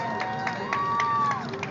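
A crowd at an outdoor break dancing show on the Portland waterfront claps and cheers in a steady, dense wash of applause, with a voice faintly audible underneath.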